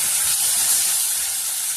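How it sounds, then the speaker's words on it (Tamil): Mint leaves sautéing in a pan for parotta salna give a steady, close sizzle and hiss, even and continuous with no talking. "மிச்சம் இருக்க புதினாவை இதில் சேர்த்து நல்லா வணக்கி எடுத்துக்கலாம்"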